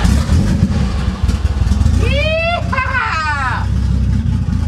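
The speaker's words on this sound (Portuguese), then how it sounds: "Primeira vez na vida eu ligando o meu 350Z Turbo" A turbocharged Nissan 350Z is started at close range, with a loud clattering engine rumble under excited voices, and a rising tonal whine partway through.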